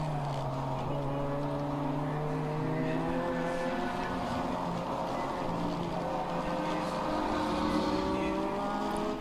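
Race cars run laps of a road course during a ChampCar endurance race at a Joliet Grand Prix, engines droning continuously with rising and falling pitch as cars pass, steady and loud throughout, with faint talk underneath.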